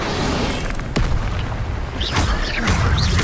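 A fire spell is cast in Hogwarts Legacy: a dense, roaring whoosh of flame with a low boom partway through and flickering crackles near the end.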